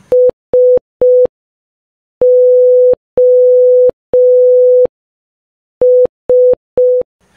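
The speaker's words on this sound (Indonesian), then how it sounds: "sinyal itu diterjemahin jadi kode Morse. Gabungan titik dan garis yang mewakili huruf dan angka." Telegraph Morse code beeps ring out as a loud, pure electronic tone: three short dots, three long dashes, then three short dots, spaced clearly in a crisp rhythm.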